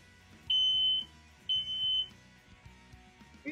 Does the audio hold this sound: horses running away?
no